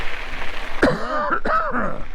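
Close, harsh throat clearing with a couple of short coughing bursts, loud and rough over a quiet outdoor background.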